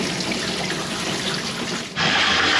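Water running from a tap into a bath, a steady, loud rushing hiss that briefly dips and then surges stronger and brighter.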